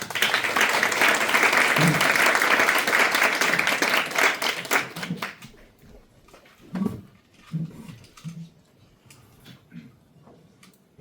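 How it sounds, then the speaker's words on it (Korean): Loud applause from an audience at the opening ceremony of a student Model United Nations conference, welcoming a speaker to the podium; dense clapping for about five seconds, then fading to scattered claps and faint room noise. "큰 박수로 다시 맞이해 주시기 바랍니다."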